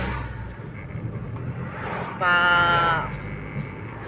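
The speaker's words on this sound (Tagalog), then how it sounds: "Padating na sasakyan." A car approaches on a road near wrecker shops, its sound swelling briefly louder over a continuous background of traffic rumble, with voices talking nearby.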